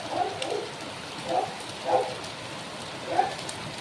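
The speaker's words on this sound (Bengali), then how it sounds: "পুরো বড় বড় ফোঁটা পড়ছে একদম" Heavy monsoon rain falls in big drops, a steady hiss with a few louder splashes at irregular intervals, heard from nearby indoors.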